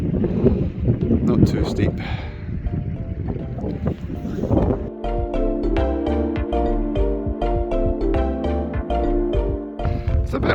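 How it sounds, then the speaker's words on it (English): Gusty wind buffeting the microphone in a snowy mountain corrie at Beinn Eighe, Torridon, Scotland; a loud, roaring rush under a voice, which is briefly heard talking. "It's a bit windier than I thought it would be in here"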